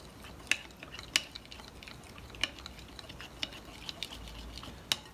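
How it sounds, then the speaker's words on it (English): A spoon stirs cumin into roasted-garlic baba ganoush in a bowl, giving faint, sparse clinks and soft scraping ticks spaced irregularly over a quiet background. "I will give this a mix."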